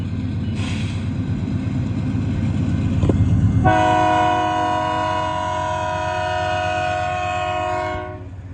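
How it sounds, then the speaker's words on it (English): A grain train led by a warbonnet-painted locomotive rumbles past as its horn blares a long, loud chord over the rolling noise, then fades toward the end. "A war bonnet leader on a grain train."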